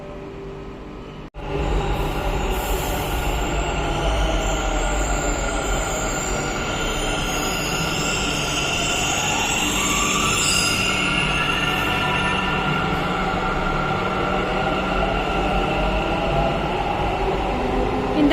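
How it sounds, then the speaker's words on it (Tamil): A Bangalore metro train runs through Baiyappanahalli station, its steady loud rumble and rail roar filling the whole stretch, with faint wheel squeal rising midway and no talking. "இந்த பக்கம் ஒயிட் ஃபீல்ட் போகிற ட்ரெயின்."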